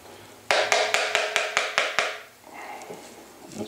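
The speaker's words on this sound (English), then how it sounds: "And so knocking some of that tar out," Old tar is knocked out of a Model T ignition coil with about eight sharp, evenly spaced knocks. They are close and loud, followed by quieter scraping and handling.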